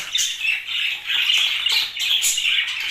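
Newly weaned budgerigar chicks squawk and chatter continuously at close range, loud, high and scratchy in overlapping waves, with no voices.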